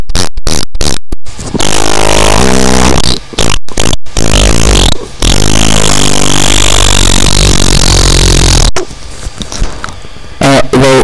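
A voice imitates farting in a restroom, loud, close and sputtering, with bursts of blubbering noise broken by short silences and one long, drawn-out rasp.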